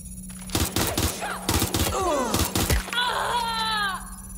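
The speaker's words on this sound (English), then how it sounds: "I'm taking fire!" Video-game gunfire in rapid bursts of loud automatic shots, followed by a strained, wailing vocal sound near the end.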